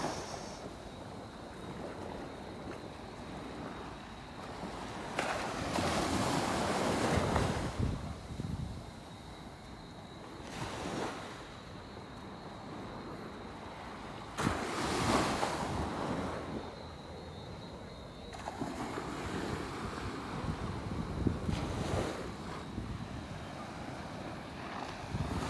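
Night waves roll onto the beach at Carlisle Bay, Barbados, in a continuous surf wash with repeated louder breaking surges every few seconds, mixed with wind buffeting the microphone.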